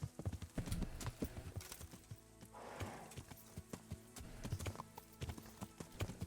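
Video game horse hooves clip-clop in an irregular, fairly close rhythm, with a brief whoosh midway as the horse jumps and other game sounds underneath.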